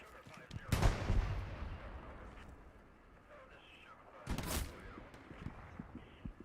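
Loud artillery blasts in a military video game, two heavy booming impacts with rumbling tails, the first near the start and a second a few seconds later, over a low background din.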